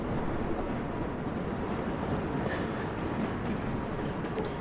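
A subway train in the World of Subways 4 game descends into Queensboro Plaza station, a steady, loud rumbling roar of wheels and motor running continuously without pause.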